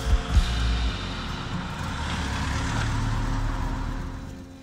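A campervan driving along roads in Northumberland, a steady broad engine and road rumble with a couple of low thumps at the start, continuous and close without talk.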